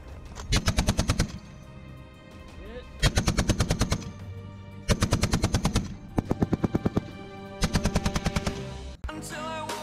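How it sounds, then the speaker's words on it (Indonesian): An M2 heavy machine gun fires in repeated rapid bursts of loud, evenly spaced shots, with short pauses between each volley and a final shorter burst. "M2 telah dioperasikan di seluruh dunia sebagai senapan mesin anti pesawat, anti kendaraan, dan anti personil"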